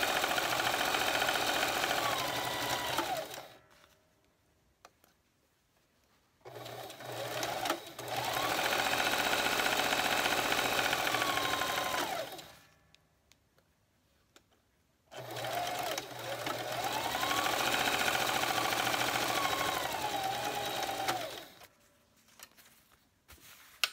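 A sewing machine stitches through layers of fabric for a 3D face mask, running in three long, steady whirring stretches separated by quiet pauses, close and loud.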